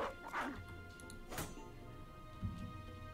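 A dog in the Battle Brothers video game yips and barks in a few short bursts, followed by a softer whimpering sound, fairly close and with no talking over it.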